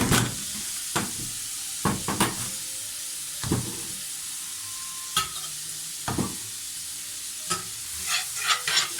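Butter sauce for steak sizzling loudly in a pan, with sharp spoon-scraping stirs and knocks repeating every second or so over a constant hiss, close up and without talk.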